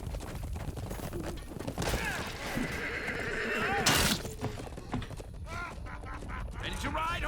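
A horse whinnies and its hooves clip-clop in the medieval combat video game Chivalry 2, with galloping and battle noise around it, while a player talks over the action.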